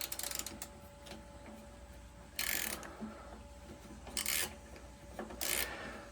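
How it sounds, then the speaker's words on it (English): A ratchet tightening the battery hold-down on a Cub Cadet Ultima ZT1 lawnmower, with three short bursts of clicking ratchet strokes among faint handling knocks, close and alone. "you have to use your hand to kind of hold that top of that ratchet in place and give it a little bit of resistance"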